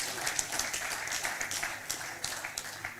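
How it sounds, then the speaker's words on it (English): An audience at a cocktails-and-conversations panel event applauding the panelists, a steady wash of clapping from a mid-sized crowd with a few sharper individual claps. "Can we give another round of applause to the panelists?"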